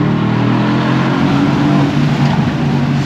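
Tuned 2018 Mercedes-Benz C63s AMG under hard acceleration, a loud, close, continuous engine roar with dense low harmonics that holds steady for the full stretch.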